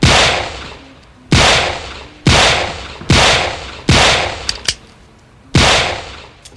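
Six sharp shots from a Colt Official Police revolver prop, fired singly at uneven intervals of roughly a second, each a loud crack with a short ringing decay, close by and with no voice.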